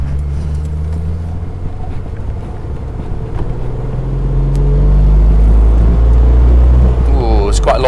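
A 1986 Alfa Romeo 75 V6, a barn find under restoration, driving on a bypass and accelerating hard, heard from inside as a deep engine drone that builds into a heavy low rumble with noticeable vibration.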